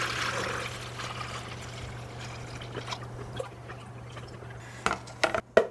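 Water is poured into a plastic gel blaster gellet container, a steady trickling stream at first, then fading into scattered drips and clunks of the container near the end.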